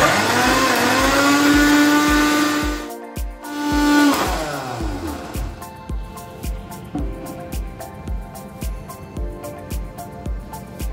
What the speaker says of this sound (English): Crush and blend the sample using a blender to make it paste.